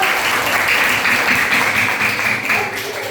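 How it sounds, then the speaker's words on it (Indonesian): Sustained applause from students filling a classroom, a steady dense wash of clapping for about three seconds, loud and close, with a few voices mixed in. "Tepuk tangan yang luar biasa"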